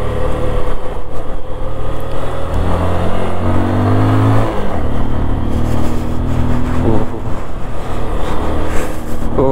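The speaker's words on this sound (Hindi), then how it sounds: "ओ गाड़ी स्ट्रगल कर रही है, बहुत ज़्यादा स्ट्रगल कर रही है" A Bajaj Pulsar 135 motorcycle engine strains loudly on a tough mountain climb in Spiti, holding a steady labored drone with rising revs in the middle as the bike pulls uphill.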